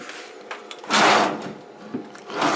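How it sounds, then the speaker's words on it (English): Drawer in a basement workshop being slid open or shut, a soft scraping rush with a couple of light knocks and another slide at the end, close by. "This is my stapler drawer"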